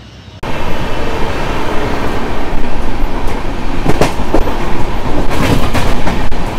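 An express double-decker passenger train rolling at speed, heard from inside the lower deck: a loud, steady rumble and roar with intermittent rail clicks and rattles throughout, no voices.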